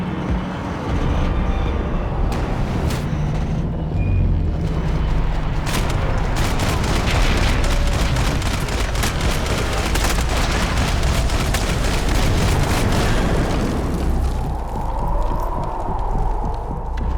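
Dense, sustained gunfire from the shooter game Max Payne 3: rapid overlapping shots and bursts crowd the scene nearly nonstop for many seconds, loud and close, thinning toward the end.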